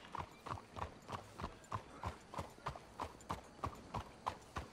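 Horses clip-clop at a steady walking pace in the Red Dead Redemption 2 video game, with evenly spaced hoof beats repeating throughout, fairly quiet and without voices.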